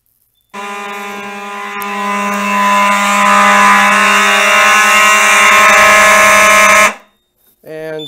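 A Simplex 4010 fire alarm system sounds during a test, a loud continuous electronic alarm tone lasting about six seconds before cutting off abruptly, followed by a brief silence.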